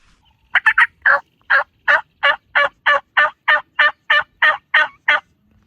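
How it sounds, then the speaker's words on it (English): A wild turkey gobbling in the woods, a loud close series of about fifteen evenly spaced gobbles over several seconds, with nothing else around it. "But then we heard some gobbling in the opposite direction."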